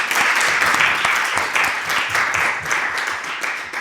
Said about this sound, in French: Merci aux intervenantes. Je crois qu'on peut les applaudir.